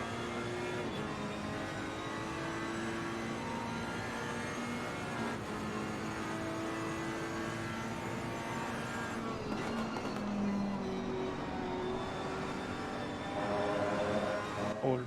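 A Ferrari race car engine drones at pit-lane speed around Silverstone in a racing video game, a steady harmonic whine with other cars audible, the pitch shifting slightly near the end.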